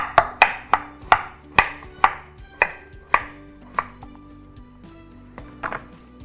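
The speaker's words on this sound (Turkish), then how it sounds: "Patates nişastalı olduğu için böyle bıçak kaymaz, biraz zorlar sizi." Starchy potatoes chopped with a knife on a board, a run of about a dozen crisp, evenly spaced thuds that slow and thin out toward the end.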